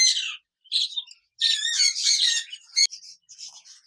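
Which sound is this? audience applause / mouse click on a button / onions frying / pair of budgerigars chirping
pair of budgerigars chirping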